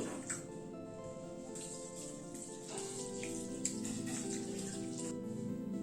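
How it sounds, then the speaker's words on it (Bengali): Masoor dal, red lentils, being rinsed in water by hand, with a steady soft sloshing and trickling, small drips and splashes running throughout, close and moderately loud. "মসুর ডালটা ভালো করে ধুয়ে নিচ্ছি।"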